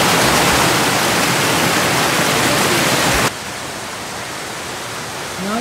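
Loud, continuous rushing roar of a waterfall at a scenic spot in Kochi, Japan, heard close up, then dropping abruptly to a softer, steady wash of falling water.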